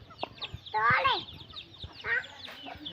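A small hen clucks in a few short, squawky bursts near the listener, with soft thumps and background noise around it and a voice faintly mixed in.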